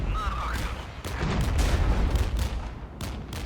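Napalm strike from jets in the Regiments wargame: a rumbling, heavy roar of fire and booms swells and holds for a couple of seconds under continuous battle noise, with a voice speaking over it.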